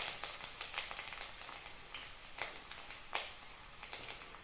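Ginger pieces and curry leaves sizzle steadily in hot oil in a pan while being stirred, a close crackling hiss with scattered sharper pops and scrapes, no voices.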